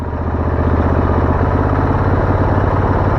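A Royal Enfield Interceptor 650 twin engine held at about 2000 rpm while being checked for an overcharging fault, a loud, steady, close mechanical thrum with an even pulsing beat throughout.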